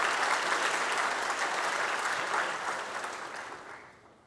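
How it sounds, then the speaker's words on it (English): Audience applause for student helpers at a 2024 university orientation event, a dense steady clapping from a full room that holds strong and then slowly tapers off near the end, with no voices over it. "So a round of applause for them as well."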